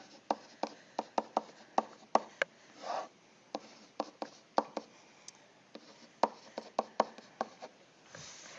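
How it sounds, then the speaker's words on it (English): A hand writes an algebra expression, the pen making a quick series of crisp taps and short scratching strokes in an irregular rhythm, close and quiet. "I'm writing 2z plus 12."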